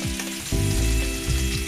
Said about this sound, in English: I'm gonna fry it for a few minutes just to develop a deeper flavor, cook off some of that raw tomato flavor